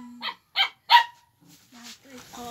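A dog barks three times in quick, loud, close succession, followed by someone speaking.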